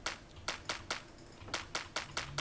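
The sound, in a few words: clap sample in FL Studio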